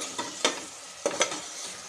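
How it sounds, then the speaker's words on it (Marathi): Amla pickle being stirred in a hot pan, a soft sizzle under a few quick scraping strokes of a spoon, close and brief. "कंटिन्यू फिरवत राहायचं आहे"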